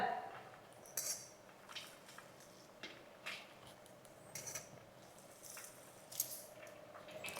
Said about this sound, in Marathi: आता हा कांदा आपल्याला ना असा चुरून घ्यायचा